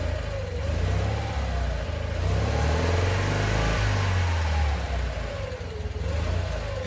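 A 1955 Citroën 2CV AZ's small engine cranks and catches, then keeps running with a steady, close mechanical drone whose pitch rises and falls slightly, with no talking over it.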